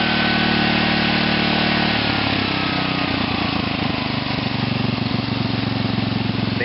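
OFNA Raider 2 RC nitro engine with an ORC carburetor running free with no governor, a loud high-revving buzzing whine that sits steady, then wavers and settles into a rougher, lower-pitched drone.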